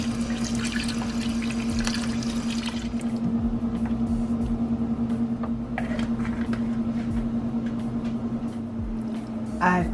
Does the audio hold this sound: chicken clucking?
no